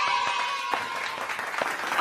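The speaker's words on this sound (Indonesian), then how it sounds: "penonton tepuk tangan dong" Audience applause during a Balinese comedy storytelling show: a short burst of steady crowd clapping with a few louder individual claps, with a faint voice and a thin tone underneath.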